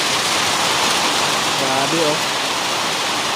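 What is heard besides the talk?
heavy rain pouring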